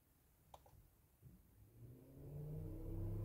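A Ford Focus MK1 radiator cooling fan, switched on through diagnostic software, starts up and climbs to high speed, a quiet whir rising into a steady, growing hum after a faint click.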